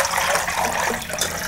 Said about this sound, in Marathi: इकडे मोठं एक भांडं घेतलेले आहे, त्यामध्ये आपण आहे ना पाणी घालूया